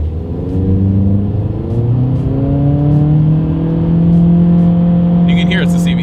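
A 2023 Acura Integra turbocharged four-cylinder with a CVT pulls hard in sport mode, engine note climbing steadily in a droning, continuous rise, loud and close, with a brief voice near the end.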